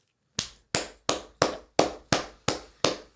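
Eight sharp hand claps at an even, unhurried pace, close and crisp with a short decay after each one and silence at the start.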